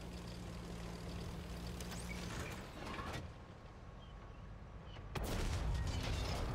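A tank cannon fires in a light-tank video game, a sudden broadband boom that cuts through a steady mechanical engine rumble, loud and close, with no voices.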